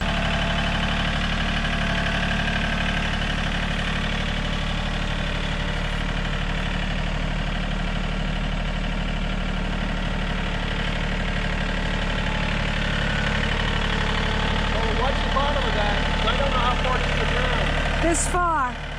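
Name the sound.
vehicle engine idling while driving over to a post hole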